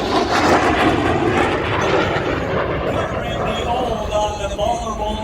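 A plane making a wheel landing at the Dayton airshow, a loud continuous engine roar with rumbling power that eases slightly, heard under someone talking.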